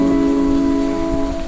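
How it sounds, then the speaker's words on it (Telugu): Rain falling steadily outside a house in Nellore, a continuous hiss with a constant tonal hum underneath and no talking. "ఇప్పుడు వర్షం పడుతుంది, వర్షం ఇప్పుడే స్టార్ట్ అయ్యిందనమాట"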